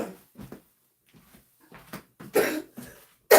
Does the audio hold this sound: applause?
no